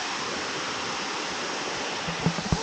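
Waterfall at the Cascade des Tuves pours a steady, full broadband rush of falling water, close and unbroken, with a couple of faint brief knocks near the end.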